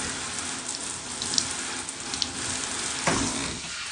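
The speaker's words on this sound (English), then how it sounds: "So once your shampoo's been in there for about 2 minutes, you're going to rinse it out." Water running steadily while shampoo is rinsed out of wavy hair, a continuous hiss of flow with a few soft splashes and one brief louder gush near the end.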